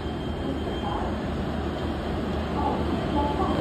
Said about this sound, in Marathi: इथं इंजिन चेंज करायचं चाललंय बघा